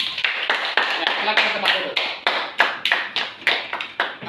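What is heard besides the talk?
classroom applause for group 3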